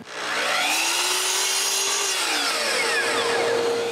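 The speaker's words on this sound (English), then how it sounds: "I cut a piece of masonite 135 millimeters square." A power saw cuts through a piece of masonite sheet in a woodworking shop, a loud continuous whining rasp with rising and falling tone through the cut, close and uninterrupted.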